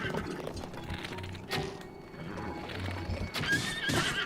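A horse in Zelda: Breath of the Wild, near Gerudo Desert, whinnies loudly after being hit, with hooves clopping and a few thuds around it.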